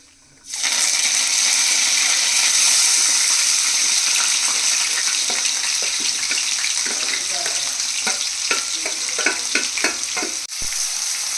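Chopped onions, curry leaves and green chillies hitting hot oil with cumin seeds for an egg keema curry, a sudden loud sizzle that holds steady, with scraping stirs and crackling pops growing toward the end.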